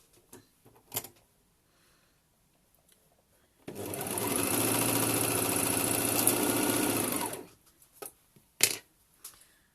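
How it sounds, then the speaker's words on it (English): An overlocker stitching the end of a bralette band into a loop runs in one steady, close mechanical whir for about four seconds, framed by a few sharp handling clicks and taps before and after. "fold it right sides together, and we're just going to overlock this end to form a loop."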